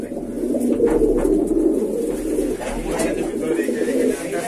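Madrasi pigeons cooing in a loft, loud and close, with overlapping low rolling coos running throughout and a faint voice in the background.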